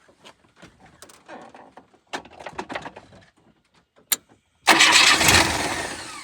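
A Tofaş Şahin car engine, recently bought after a crash, cranks and catches. It settles into a loud, steady run after earlier scattered knocks and handling noises.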